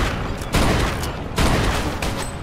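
Automatic gunfire from the Mafia 2 video game comes in dense, rapid bursts. Two louder volleys stand out against a continuous crackle of shots.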